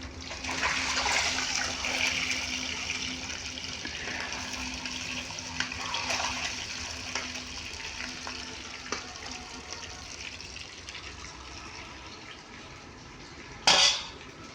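Eggs fry in a pan for a meal for madrasa students, giving a steady, close sizzle that runs throughout, with a brief sharp clatter near the end and no talking.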